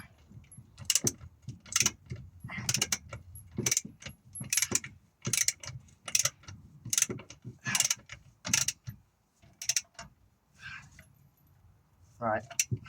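A wrench tightens a bolt on the rear shock absorber of a Peugeot 205, producing repeated ratcheting clicks and metallic turns in short bursts, close by, with someone talking at times between them.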